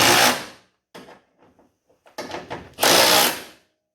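A power tool tightening bolts on a Chevrolet S10 radiator: two long whirring bursts at the start and end, with short ratcheting stutters in between, close and loud with no talk.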